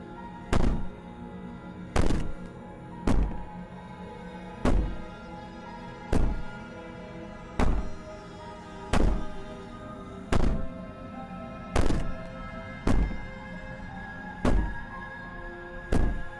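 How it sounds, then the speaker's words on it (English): Heavy banging on a wall in the video game Slay the Princess: about a dozen loud, evenly spaced thuds land roughly every second and a half over a low, steady background drone, with no talking. "Maybe the banging and wailing will stop if you just don't pay attention"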